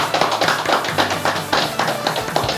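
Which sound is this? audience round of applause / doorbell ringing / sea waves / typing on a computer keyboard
audience round of applause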